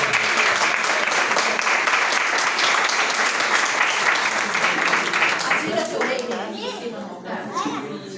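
A church congregation applauds in a dense, sustained burst of clapping that thins slightly toward the end, with children's voices and chatter mixed in.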